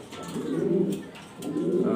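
A German Beauty Homer pigeon coos in two low, rounded phrases, close and fairly clear, with a short pause between them and no speech.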